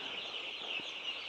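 Laying hens cluck in a poultry house, a steady busy murmur of many birds with a few soft clucks rising above it, moderately loud and without talk.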